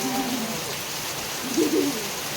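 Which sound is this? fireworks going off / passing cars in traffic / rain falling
rain falling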